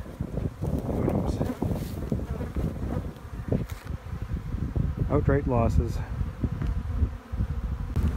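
Dense buzzing of many honey bees swarming close around a small hive, with a voice speaking briefly over the steady drone.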